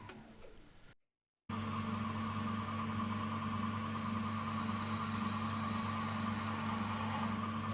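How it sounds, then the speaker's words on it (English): Drilling the end of a valve for the steam brake on a model Romulus-type steam locomotive, a steady machine whine with a strong tonal hum after a brief silent cut, running continuously and evenly with no talking. "I'm now just drilling the end of the valve to make contact with the exhaust port there."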